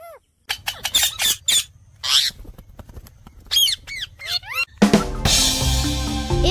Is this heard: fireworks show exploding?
no